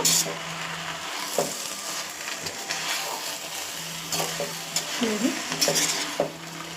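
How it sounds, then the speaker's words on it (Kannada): Drumstick leaves stirred and fried in a pan to cook off their water, giving a steady close sizzle with a continuous scraping stir and occasional clinks of the utensil against the pan. "ಇವಾಗ ಈ ಸೊಪ್ಪನ್ನು ಹಾಕ್ಕೊಂಡು ಚೆನ್ನಾಗಿ ಹುಡ್ಕೊಳ್ಬೇಕು"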